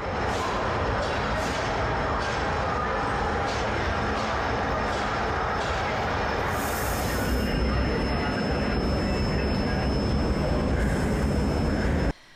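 A new six-car electric passenger train rolls past with a loud, steady rushing roar and rumble, a voice speaking beneath it.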